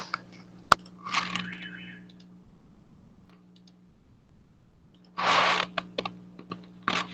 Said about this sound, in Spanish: Si escuchan teclados es que estoy acá moviéndole a mi computadora